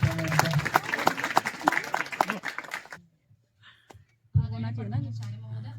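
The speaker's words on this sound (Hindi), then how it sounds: "जोरदार तालियों के साथ स्वागत कीजिए उनका मैम का" Applause welcoming a teacher at a school gathering of class 11 students, lively clapping for about three seconds that fades to near silence before a voice begins speaking.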